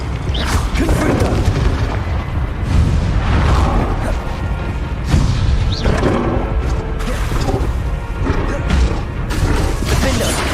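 Fire blast spells and heavy magical impacts in the Hogwarts Legacy final battle, a dense run of loud booms and crashes, repeated throughout, with a voice calling out spell names over the din.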